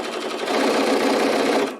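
A sewing machine stitching a quilt block runs in one short, steady burst of rapid mechanical whirring and needle chatter that swells and then tapers off, close up and without speech.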